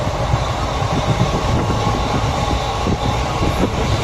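A train rumbles loudly and steadily at Chennai railway station, with rhythmic clatter of wheels on rails and a dense mechanical roar.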